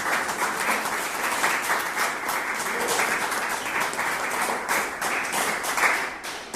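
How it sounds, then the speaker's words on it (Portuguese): A church congregation applauds during a sermon, a dense, steady wash of many hands clapping throughout, loud and close with no talk over it. "Então aplauda o Senhor Jesus por isso."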